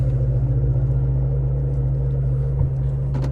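Corvette Z06 pulling slowly out of a garage, its engine a steady, loud low rumble throughout with a brief swell near the end.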